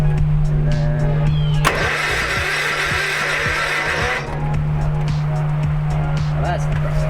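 A riding lawn mower, set up as a wheelie mower, has its engine cranked with the choke held back, then catches and runs with a loud, steady, close rumble, while someone talks over it.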